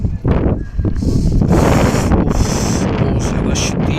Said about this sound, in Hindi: बहुत ज़्यादा शदीद ठंडी हवा चलना शुरू हो गई।